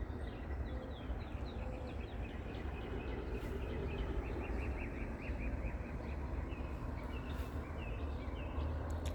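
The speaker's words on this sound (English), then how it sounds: "can hear the birds singing in the background." Faint chirping birdsong in the distance over a constant low rumbling background, with repeated high trills scattered throughout, on an evening in a garden forest corner.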